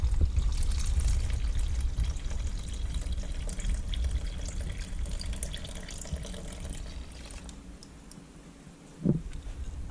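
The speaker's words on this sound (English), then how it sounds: "we are going to add 380 grams of warm water." Warm water pours into a bowl of sourdough starter in a kitchen with a wood cookstove, a steady soft trickle and splash running several seconds before easing off, with a small knock near the end.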